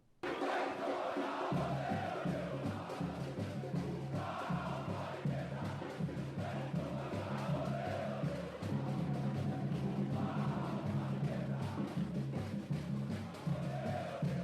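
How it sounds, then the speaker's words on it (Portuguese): Santos football supporters protesting at Vila Belmiro stadium, a large crowd chanting in rhythmic unison with steady, repeating pulses, heard at a distance and fairly faint. "Torcida do Santos Futebol Clube protestando lá na Vila Belmiro."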